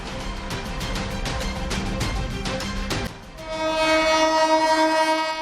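A MEMU electric passenger train on a Chennai suburban line runs loud and close, with steady rhythmic clattering of wheels over rail joints, then a sustained horn blares over the rumble.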